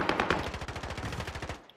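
Rapid machine gun fire in a Call of Duty style match on the Fortune's Keep map, a steady fast stream of close, loud rounds that cuts off at the end.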